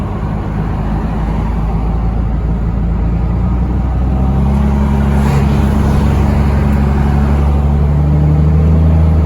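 A 12V Cummins diesel pickup truck drives through a small lake town on dirt roads, its engine droning steadily and loudly from inside the cab, with no talk.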